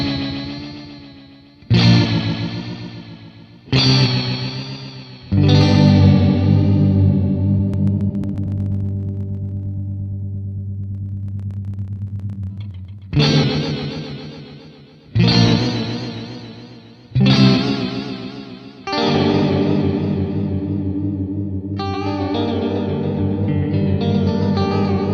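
Electric guitar played through a Free the Tone Flight Time delay pedal with deep, fast modulation: loud strummed chords that warble and wobble strongly in pitch, with several sustained ringing passages and no voices.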